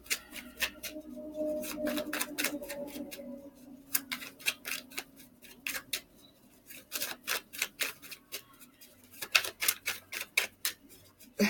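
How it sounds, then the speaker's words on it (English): Quick, crisp flicking and riffling of tarot cards being shuffled, close and fairly quiet, in irregular bursts of snapping taps with a faint low hum underneath. "I just have to shuffle these cards."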